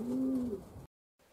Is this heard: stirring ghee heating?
no